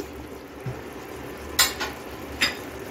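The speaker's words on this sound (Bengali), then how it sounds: "ঝোলের সঙ্গে পটলটা মিশিয়ে দিচ্ছি।" Fried pointed gourd (potol) being stirred into a simmering mustard gravy, with a soft background bubble and three brief scraping strokes of a spoon against the pan, no talking.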